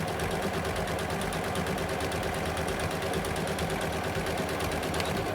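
A sewing machine stitches a French seam with a fast, steady mechanical whirring chatter, loud and close throughout with no talking.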